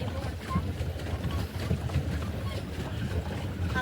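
A pedal boat moves across open water, giving a steady wash of water and wind-buffeted rumble that continues without a break and with no voices.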